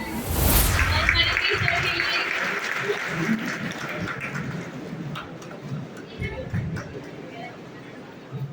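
Loud applause from an audience greeting the principal at a B.Ed college event, a dense burst of clapping that starts strong and carries on for several seconds with crowd murmur and voices mixed in.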